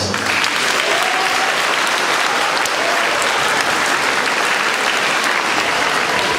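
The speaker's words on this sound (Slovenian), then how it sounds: "Mislim, da si mladinski zbor zasluži še en aplavz." A large audience gives loud, dense applause for a youth choir at a concert, a continuous wash of clapping at an even level from start to finish, with no voices on top.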